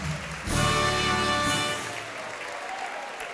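A crowd at a Hessian Weiberfastnacht carnival event in 2016 breaks into a loud, dense burst of applause that peaks quickly, then eases into steadier, softer clapping.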